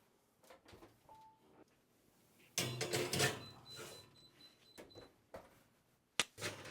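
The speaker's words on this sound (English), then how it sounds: "Let me get that door for you." Home door being opened as guests arrive at a kitchen, a burst of handle clatter and swinging-door rustle amid soft household movement, followed by scattered knocks and a sharp thump near the end, with no clear talk.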